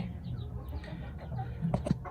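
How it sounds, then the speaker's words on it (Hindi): An Aseel hen sitting on eggs clucks a few times close by, short low clucks bunched near the end over steady background noise. "ये मुर्गी है, बहुत ही प्यारी मुर्गी है ये।"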